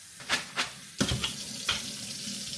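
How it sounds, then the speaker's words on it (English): Water from a pot of cooked noodles pours into a strainer in a home kitchen, a few splashing gushes followed by a steady rushing stream, close by with no talking. "since the noodles are done, I'm gonna put in the strainer and take the water out."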